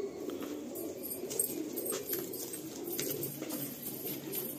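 Several pigeons in a Kolkata breeder's loft coo softly and continuously at close range, low steady murmuring with no talk.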